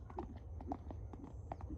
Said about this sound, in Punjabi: ਓਏ ਵਾਜਾਂ ਕਰਦਾ ਘੋੜਾ